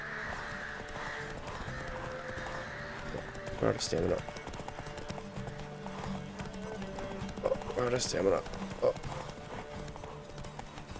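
Horse hooves clopping at a gallop in The Witcher III, in bursts during a race, with a whinny or two, under near-constant excited talk and game music.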